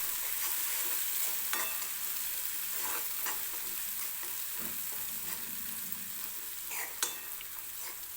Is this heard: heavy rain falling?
no